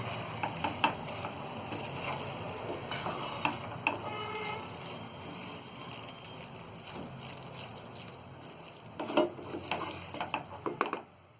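Karela and chana dal being stirred in a frying pan, a soft continuous sizzle broken by light scraping and clinks of a spoon against the pan, with a louder cluster of clatter near the end.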